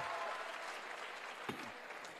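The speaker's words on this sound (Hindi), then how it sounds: "एक बार जोरदार ताली आप सब अपने लिए बजाएं" A short burst of audience applause at the Banaras Litfest 2023 poetry mushaira, a steady crowd clapping heard at a fairly low level, with one sharp knock near the end.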